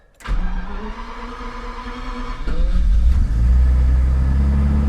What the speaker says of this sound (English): connect up the battery, crank over the key, and see what it does